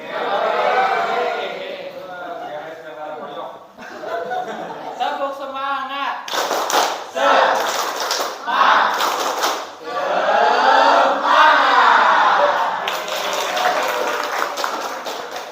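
A group of Indonesian teachers performs the rhythmic Tepuk semangat clapping chant, patterned claps mixed with shouted cheers and a leading voice, ending in louder, bursting group clapping and laughter.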